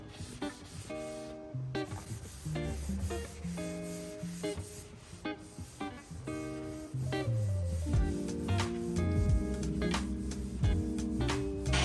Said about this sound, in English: I then went in with a sanding sponge at 320 grit with just a quick pass through